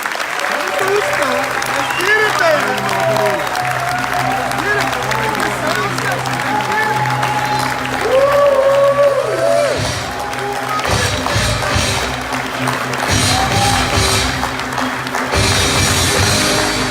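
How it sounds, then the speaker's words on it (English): Steady applause from a conference audience in Dubai fills the room, sustained clapping with some crowd noise as a presenter is called up to the stage, with a voice speaking over it. "Give him an applause."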